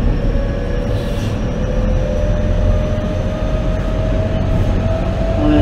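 A JR Kobe Line electric train resuming after an emergency stop, running with a steady low rumble and rattle, a rising electric motor whine climbing in pitch as it picks up speed, close and continuous.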